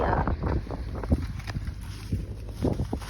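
Strong wind gusting across a field where a tractor is laying plastic sheeting over soil, a steady rushing buffet with low rumbling pulses and irregular flapping bursts close to the microphone.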